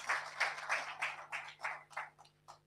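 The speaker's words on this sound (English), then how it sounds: "A round of applause, please." Applause from an audience at an African youth festival session on agriculture, a steady patter of clapping that thins out and fades over a few seconds, fairly faint against a low background hum.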